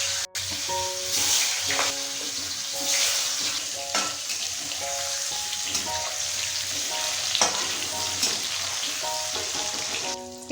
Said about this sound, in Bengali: ভেজে নেব চৌকো করে কেটে রাখা পনির